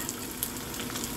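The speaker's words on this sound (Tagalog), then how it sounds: "nagtitilapsikan ang ating mga mantika" Cooking oil splattering and sizzling in a pan after frying adobo, a dense close crackle with small pops scattered through the short burst, no voices.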